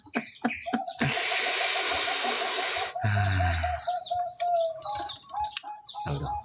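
Zebra dove (perkutut katuranggan) giving a rhythmic run of soft cooing notes, mixed with other birds chirping. A loud hissing burst and a low rumble break in partway through, close by.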